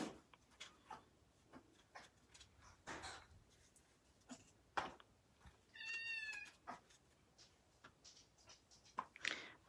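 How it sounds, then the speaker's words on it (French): A cat about to be sick makes a brief strained, retching meow-like call amid quiet surroundings, with scattered soft clicks and rustles before and after. "On dirait que j'ai un chat qui va être malade."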